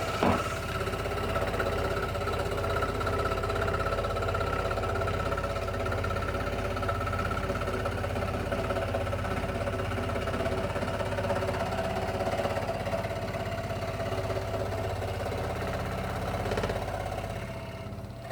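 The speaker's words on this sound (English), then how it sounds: "I've had a scroll saw for a while now and not really used it" A scroll saw cutting out wooden hearts runs as a constant droning motor hum with a faint steady buzz, even in level throughout, with no voices.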